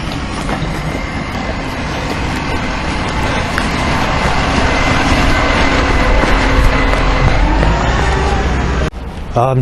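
Loud motorbike passing along a busy street, a growing engine roar building to a peak near the end over heavy traffic rumble, close and loud.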